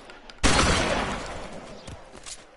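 A single loud gunshot in the L.A. Noire video game cracks out sharply, then leaves a long reverberant tail that fades away, with fainter shots following.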